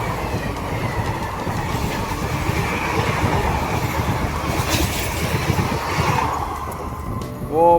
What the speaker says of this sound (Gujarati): અહીંયાથી ટ્રેન જાય છે